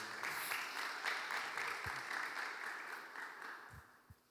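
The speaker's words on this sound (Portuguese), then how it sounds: "Uma salva de palmas para ela." Audience clapping for a student at an Easter retreat gathering, a steady wash of applause from a crowd that fades out toward the end, with a few low thumps.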